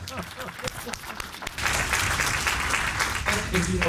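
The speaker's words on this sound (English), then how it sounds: "I think she deserves an applause" At a gathering of small-firm architects, a speaker talks briefly before the audience breaks into applause that swells suddenly and then holds as a steady, fairly loud patter of many hands.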